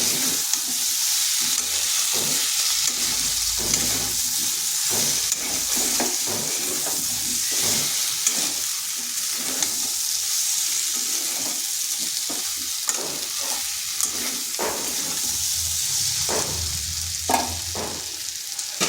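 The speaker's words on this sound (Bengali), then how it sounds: "এবার এই মশলার সাথে বেশ কিছুক্ষণ এইভাবে কষে নিতে হবে।" Spice masala with green chillies sizzles in an oiled pan while a spatula stirs and scrapes it repeatedly, giving a steady frying hiss punctuated by regular metallic scraping strokes.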